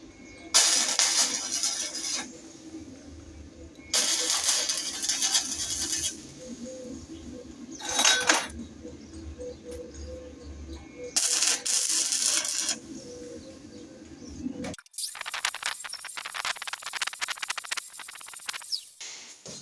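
Flap disc grinding down a weld on a cut-up bicycle frame, several loud bursts of abrasive rasping separated by a lower motor hum, ending with a long stretch of continuous grinding, no talking.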